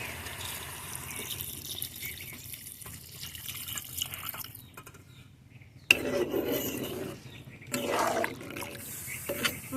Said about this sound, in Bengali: এখানে গরম পানি দিয়ে দিলাম।